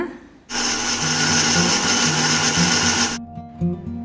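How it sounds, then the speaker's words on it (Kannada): A mixer grinder blends tamarind and other ingredients with a little water for a leafy-greens mustard curry, a loud steady motor whirr running for about three seconds before cutting out, with lower hum beneath. "ಇವೆಲ್ಲವನ್ನು ಕೂಡ ಈಗ ಸ್ವಲ್ಪ ನೀರನ್ನು ಸೇರಿಸಿ ಮಿಕ್ಸಿ ಮಾಡ್ಕೊಳ್ಳೋಣ."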